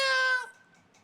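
A house cat gives a single short, clear meow that fades quickly into quiet.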